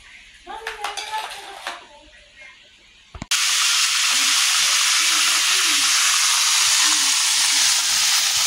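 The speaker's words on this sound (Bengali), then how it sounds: "এই যে রোস্টগুলো এখন আমি ভেজে নিচ্ছি" Beef roast pieces sizzle loudly in a hot pan after a few seconds of quiet clinks and a short voice, the steady frying hiss filling the rest with small bubbling pops.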